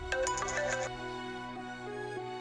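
A phone ringtone plays a bright, repeating electronic melody for about a second, then fades into a lower sustained hum.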